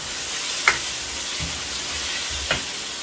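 Sauce with ketchup sizzling in a pan, a steady close frying hiss with a few soft stirring clicks and scrapes.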